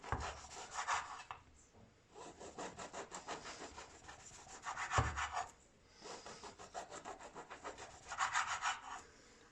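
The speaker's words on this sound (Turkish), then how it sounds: "Soğuduktan sonra ekmeklerimizi kesebiliriz artık." A knife saws through a soft loaf of homemade bread with rhythmic back-and-forth rasping strokes in three or four runs, close and moderately quiet, with no talking.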